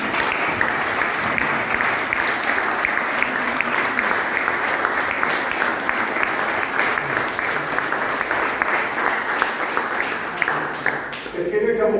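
Sustained, dense applause from an audience at a civic commemoration for Giancarlo Siani in Brusciano, near Naples, holding steady for about eleven seconds before tapering off abruptly at the end.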